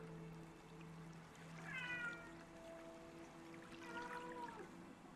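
A cat meows in The Last Campfire video game, two drawn-out wailing calls over a faint ambient hum and soft trickling water, with no talking.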